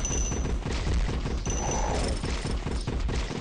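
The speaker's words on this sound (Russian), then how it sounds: "Это, я так понимаю, его выстрелы идут." Rapid sniper gunfire in the zombie survival game 200 Days Zombie Apocalypse sounds as a string of sharp, close, loud shots and thumps over a few seconds, with no talking.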